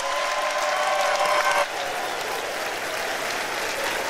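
Steady applause fills a large chamber as the President of the United States enters for the State of the Union address, a dense even patter that swells slightly then holds at a constant level throughout.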